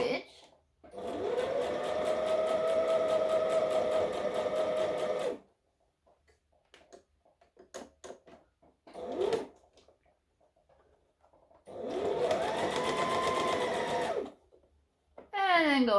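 A sewing machine stitching forward and back on a dress, two loud close runs of rapid whirring separated by a quieter pause with brief short bursts and handling clicks.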